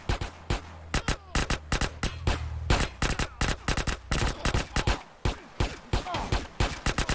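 Rapid bursts of gunfire in GTA San Andreas, loud and close, cracking in an irregular rhythm of single shots and short volleys with brief gaps between.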